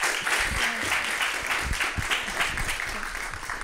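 A live audience applauds at a water-sector session, dense sustained clapping filling the whole stretch at close range, with no speech over it.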